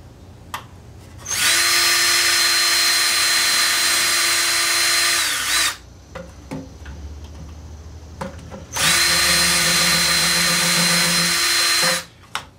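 A power drill whirs loudly boring pilot holes in two steady runs of about four seconds each, separated by a pause with light handling clatter.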